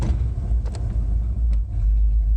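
A car engine idles steadily at full operating temperature, a low continuous rumble close by with a slight waver and no revving.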